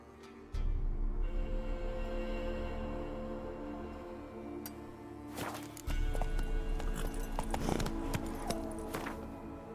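Horse hooves clip-clop at a steady walking pace in The Witcher video game, moderately close, with a low rumble beneath and occasional faint game sounds around them.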